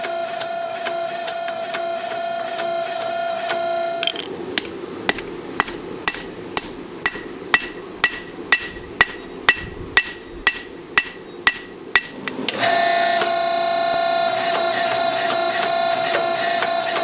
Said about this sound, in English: I start by pressing in the tip of the blade and then fine-tuning things on the anvil.